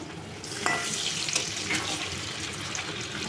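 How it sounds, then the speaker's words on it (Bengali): Potato hashbrowns frying in oil over low to medium heat, a steady soft hiss with a few faint clicks, close and even throughout. "লো আঁচে, লো থেকে মিডিয়াম আঁচে ভাজবো।"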